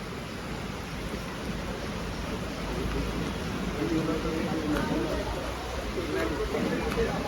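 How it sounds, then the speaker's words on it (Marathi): Heavy monsoon rain pours steadily during construction of a Ganesh festival pandal in Mira Bhayandar, a dense, continuous hiss that holds throughout at moderate level with no break. "भरपूर पाऊस आहे, पाऊस बिलकुल पण थांबत नाही आहे."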